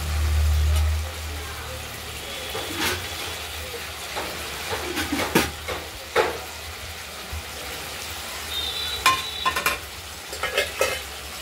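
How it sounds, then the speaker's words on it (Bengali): Spice paste sautéing in oil in a pan, a soft sizzle broken by scattered scraping and clinking stir strokes, with a low rumble at the start and intermittent louder knocks. "মশলাটা কষানো হচ্ছে।"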